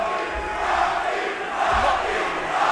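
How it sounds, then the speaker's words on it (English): A large boxing arena crowd chants "Rocky" in a loud, sustained roar, the rhythmic chant rising and falling in two swells with no nearby talk. "They pull Rocky down as the crowd starts chanting Rocky"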